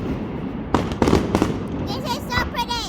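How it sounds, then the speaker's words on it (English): A fireworks show bursts over Dubrovnik with several sharp cracks and booms in quick succession, followed by whistling, warbling streaks, heard from a spot outside the city walls amid nearby crowd chatter. "We found a spot outside of the walls to watch the fireworks"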